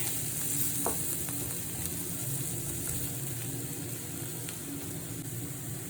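Jackfruit seeds stir-fry in coconut oil, giving a steady sizzling hiss with occasional scraping stirs and light clicks, close and even with no one speaking.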